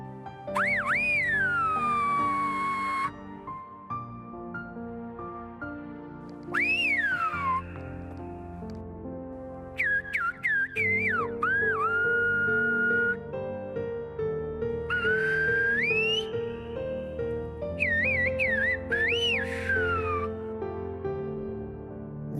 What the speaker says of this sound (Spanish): De San Lorenzo a Arguayoda se escucha silbar a los pastores